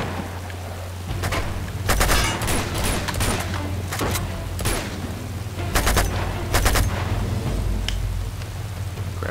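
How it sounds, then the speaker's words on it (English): Video game firefight in Uncharted 2, with bursts of gunfire and rapid volleys cracking over a steady background rumble, loud and repeated in clusters throughout, with no speech. "We're in a firefight of our lives."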